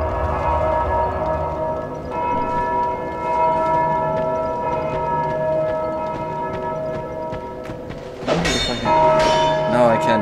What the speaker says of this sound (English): No, I can't destroy the bell.